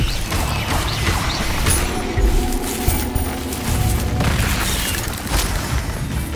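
Incendio fire spell blasts in the Hogwarts Legacy video game boom and crackle amid dense, continuous combat effects and mechanical clatter, loud and busy throughout.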